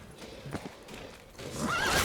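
Roach, Geralt's horse in The Witcher 3, gives a rising whinny over soft hoof clip-clops in the game world, moderately loud and growing toward the end, with no talking.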